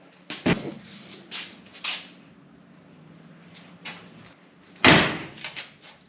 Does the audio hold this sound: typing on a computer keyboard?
no